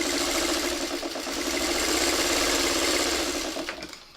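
A sewing machine runs steadily, stitching improvised Courthouse Steps quilt seams with a fast, even mechanical whir. It stays close and loud for about four seconds, then winds down at the end, with no voices.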